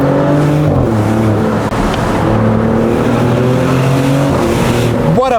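The engine of a new Maserati GranTurismo drones loudly and steadily while driving, its revs shifting with gear changes and a brief rise at the end, with road and wind noise underneath.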